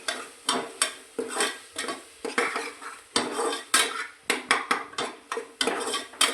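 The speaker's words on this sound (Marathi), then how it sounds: "आलं लसूणचा स्वाद जाईपर्यंत थोडंसं परतून घ्यायचं तेलामध्ये." Ginger and garlic are stirred in hot oil in a pan for a cabbage and chana dal bhaji, with a quick run of metal spoon scrapes and clanks over a soft sizzle, close and busy.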